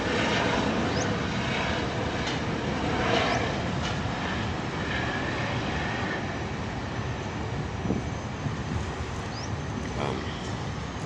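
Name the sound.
helicopter flying past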